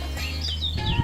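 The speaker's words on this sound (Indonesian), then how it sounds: "Kalian dengar suara burung-burung itu nggak sih?" Birds chirping nearby in a short burst of bright, overlapping tweets and trills above a low background hum, no voices.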